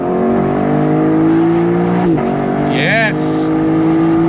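The V8 engine of a 2024 Lexus LC500 Bespoke Edition drones steadily under throttle, loud and close, then dips and climbs again as the revs shift. A short spoken word comes in near the end.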